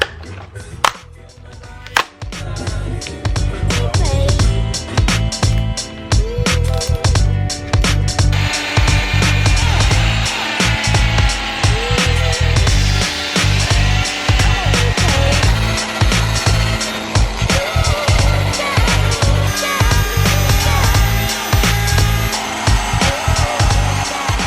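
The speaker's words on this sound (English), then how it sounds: "this wire brush so that way we can go ahead and take all the old silicone" Wire brush scrubbing old silicone out of car wheel barrels, loud, harsh scratchy bristle strokes in rapid repeated bursts, close and continuous with brief pauses.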